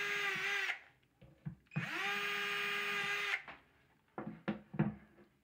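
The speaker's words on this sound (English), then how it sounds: "I'm drilling pilot holes so it's easier to get my screws in." A power drill bores pilot holes into a wooden IKEA cutting board in two whining bursts, close up, with short knocks and handling clatter between and after them.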